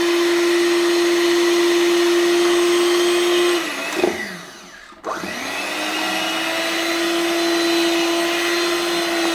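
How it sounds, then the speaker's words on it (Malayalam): An electric beater whirs steadily through cake batter with added oil, a loud continuous motor whine that dips and bogs down briefly midway before spinning back up to full speed, with no talking. "ഇത് നന്നായിട്ട് നമ്മൾ ബീറ്റ് ചെയ്യുന്നു"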